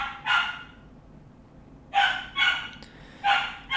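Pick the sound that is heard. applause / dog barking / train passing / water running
dog barking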